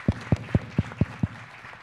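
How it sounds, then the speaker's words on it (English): Six slow, evenly spaced hand claps from close by at a crypto expo panel in Bucharest, over a faint background of scattered room applause. "So please, a big round of applause for these people here,"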